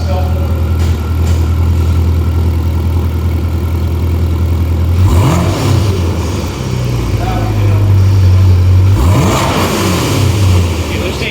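A twin-turbo C8 Corvette with a Hooker exhaust idles with a deep burble, then revs sharply twice, each rev swelling and dropping back to a low rumble.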